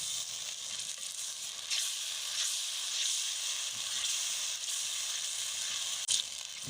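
Semolina roasting in a pan for village-style suji halwa, giving a steady close sizzling hiss throughout with a few brief scraping accents and no talk.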